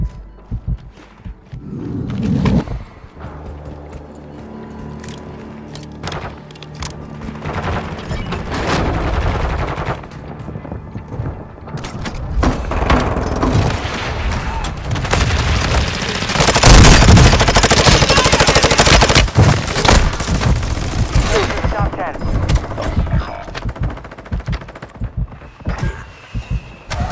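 Sustained gunfire in Call of Duty: Modern Warfare II squad combat on PS5, dense machine-gun bursts and single shots rattling almost continuously, intensifying to a heavy barrage midway before thinning out.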